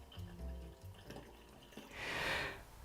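Water rushing into a homemade water-powered fan rig fitted with homemade valves, a short, close, hissing surge that swells and fades after a second or two of quieter clatter.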